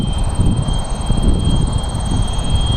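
An RC model MiG-15 jet flying at full throttle on a windy day gives a loud, steady roar with a thin high whine running through it, heard close and continuous.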